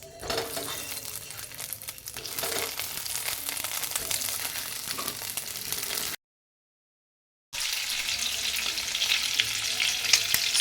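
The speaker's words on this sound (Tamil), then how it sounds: "இப்போ என்ன பண்ணுங்கள், இந்த முட்டை எல்லாமே அது உள்ளார போட்டுருங்க." Eggs go into hot ghee in a pan for an egg masala curry, giving a loud steady sizzle and crackle with stirring, cut by a brief silence before the frying resumes.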